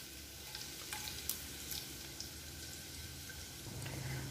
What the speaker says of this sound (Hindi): ऊपर सभी चीज़ों को भुनने देते हैं।